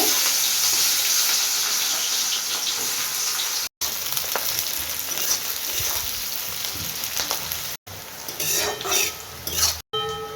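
Onions frying in hot oil with bay leaf, dried chilli and cumin give a strong steady sizzle, broken by a few short gaps, with scraping and clinks of the utensil toward the end.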